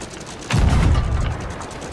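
A heavy cannon blast booms out in the pirate game Sea of Thieves, one sudden low thud that lingers in a rumbling tail over steady background noise.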